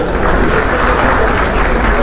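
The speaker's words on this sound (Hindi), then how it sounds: "आज भाई एक बार मैं चाहता हूँ उनके लिए जरा जोरदार तालियां बजा दें।" A large crowd gives loud, sustained applause at a memorial gathering for Phoolan Devi's death anniversary, dense clapping filling the whole stretch evenly and close.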